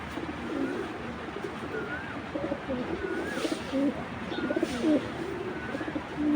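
Racer pigeons coo softly in a loft, with repeated low, throaty calls from several birds over a quiet background.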